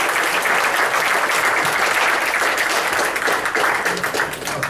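A church congregation applauds steadily as pastors come forward, many hands clapping in a dense, even roar that stays loud throughout and eases only slightly at the close.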